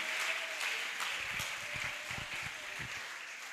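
A church congregation at an anniversary assembly claps and cheers in praise of Jesus Christ, with sustained, dense applause that fills the room at steady loudness.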